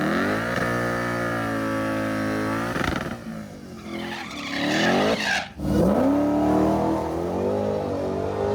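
Dodge Demon-powered truck launching hard at a drag strip after a heavy foot-brake, engine droning loud then rising in pitch with a harsh burst of spinning, squealing tires and revving.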